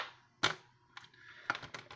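A few sharp snips of scissors cutting card stock close by, one crisp cut followed by a quick cluster of clipping sounds, with quiet pauses between them.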